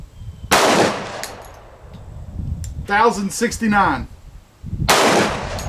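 Two loud, close gunshots from a 45 ACP pistol firing HPR Black Ops frangible ammunition, each with a sharp crack and a short ring-off, with someone speaking between them.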